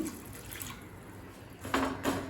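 Water splashes and trickles close by, a short pour of a quarter cup into a pan with jaggery that grows louder toward the end.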